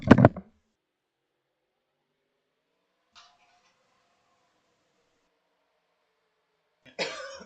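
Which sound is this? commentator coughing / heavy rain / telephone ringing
commentator coughing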